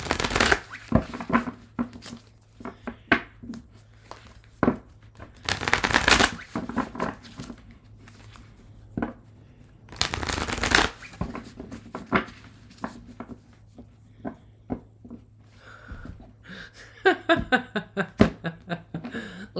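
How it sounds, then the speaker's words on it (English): Tarot cards are shuffled in repeated riffling bursts, with soft tapping and occasional quiet chuckles between them. "I'm going to shuffle"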